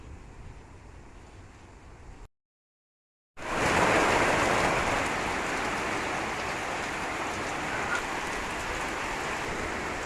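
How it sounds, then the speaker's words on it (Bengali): Rain pours steadily over a grassy field, a dense even hiss that drops out briefly and then returns fuller and louder for the rest of the stretch. "অবশেষে বৃষ্টি চলেই আসলো"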